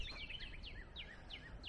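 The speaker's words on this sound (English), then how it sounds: "You can hear the birds chirping." Birds chirping outdoors on a spring morning: repeated quick, bright, descending chirps in a steady rhythm, faint and somewhat distant over low background noise, with no talking.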